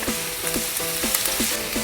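Shallots, ginger and garlic fry in oil with popped mustard seeds, giving a dense, close, steady sizzle broken by a rhythmic series of short squeaky chirps.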